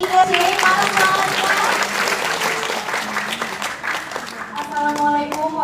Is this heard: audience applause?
yes